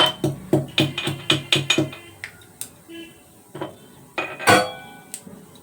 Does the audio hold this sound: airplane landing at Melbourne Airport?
no